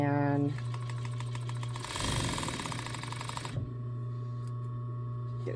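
A Bonis A16 industrial sewing machine stitches through coyote fur, a dense, rapid mechanical chatter close by that swells for a couple of seconds mid-clip, set against a steady motor hum.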